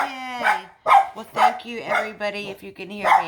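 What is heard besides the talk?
dog barking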